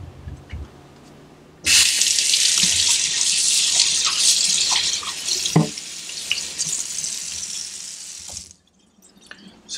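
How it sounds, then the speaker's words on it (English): Tap water runs over a 500 grit sharpening stone being rinsed, a strong gushing splash that starts abruptly, continues for about seven seconds with small knocks of the stone, then cuts off. "I'm gonna go ahead and rinse off this 500 grit."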